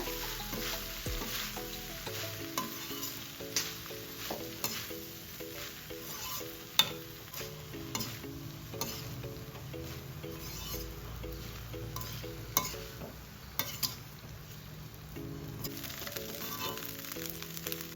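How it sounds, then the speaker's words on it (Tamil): Cooked mushroom rice being stirred and tossed in a frying pan, a continuous sizzle with repeated scraping strokes and occasional clinks of the utensil against the pan, close and steady, no speech. "ரைஸ் போட்டோடனே நல்லா மிக்ஸ் பண்ணி விடுங்க"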